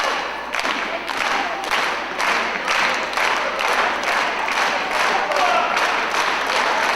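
A wrestling crowd at a singles match claps in steady rhythmic unison, each clap landing about twice a second. The sound is loud and continuous with a diffuse arena roar underneath.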